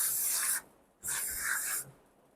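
A can of hair styling mousse is shaken hard in two brisk bursts, a gritty swishing rattle with a short pause between them. It sounds close and loud, with no talking.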